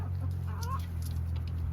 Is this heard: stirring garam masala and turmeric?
no